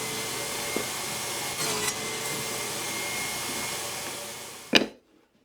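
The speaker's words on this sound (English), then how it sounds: "I'm cutting a shallow rabbet in each piece of the base" A power tool cuts a shallow rabbet into plywood pieces for a wooden drill press vise base, a steady loud whining roar running throughout before ending in a sharp knock and then silence.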